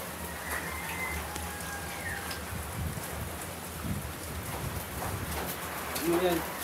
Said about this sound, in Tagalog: Pag tumila sana ulan, mga isang araw yan, matagal yan.